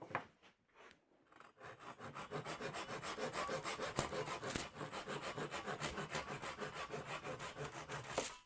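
Hand sawing trims wood during the glue-up of a Lutyens bench, producing a quiet start and then steady, rapid rasping strokes that continue for several seconds with no talking.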